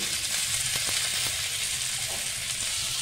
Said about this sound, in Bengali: এটা একটু হালকা ভেজে নিই, ফ্রাই করে নিই।